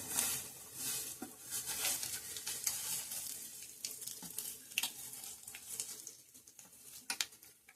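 Mustard seeds along with urad and chana dal crackle and splutter in hot ghee for a tamarind pulihora, a steady close sizzle dotted with sharp pops, with no talking.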